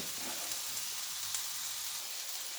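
Potatoes fry in a pan of oil for a stewed mixed-vegetable ciambotta, making a soft, even, continuous sizzle at moderate distance with no one speaking.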